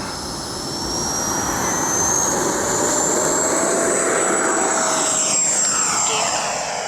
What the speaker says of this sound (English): Love that afterburner.